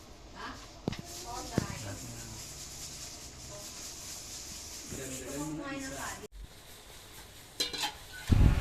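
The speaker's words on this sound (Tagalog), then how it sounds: "pagkalagay natin ng dahon ng malunggay, hahaluin lang natin to" Chicken tinola with freshly added malunggay leaves is stirred in a pot, giving a soft bubbling sizzle and scraping stir sounds under a person talking, with a short break partway through.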